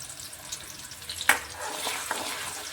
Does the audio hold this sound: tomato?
yes